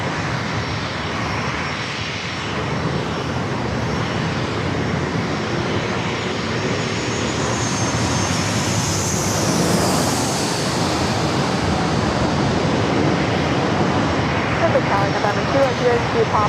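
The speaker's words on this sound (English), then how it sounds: "Looks like we got a lot of corporate flights heading out." A corporate jet takes off at San Diego airport, a loud, sustained engine roar that builds with a rising whine toward the middle and holds, with voices talking over it.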